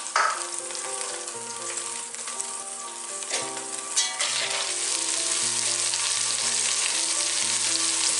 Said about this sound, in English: Browning the meat really takes the most time.